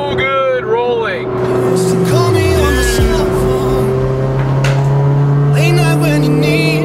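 A boosted Subaru BRZ rolls past with a steady engine drone and a falling pitch as it goes by, while people talk over it throughout.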